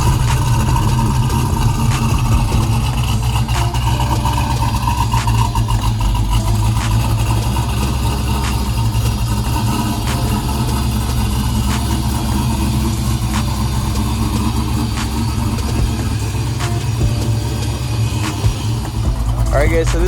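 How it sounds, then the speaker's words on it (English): Original 1969 Camaro Z28 fitted with a 680 hp LS3 V8 idling, a deep, loud, lumpy rumble with regular rhythmic pulses, heard close up with people talking over it throughout. "this is a car right here, original 69 Camaro"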